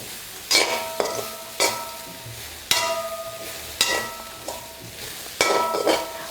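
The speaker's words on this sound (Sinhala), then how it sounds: "මම දැන් මේ භාජනයේටම පොල් ටිකත් දාලා බැද ගන්නවා." Grated coconut frying in a pan while it is stirred, with repeated scraping and clinking strokes against the metal at an uneven rhythm over a low background sizzle, close and fairly loud, with no talking.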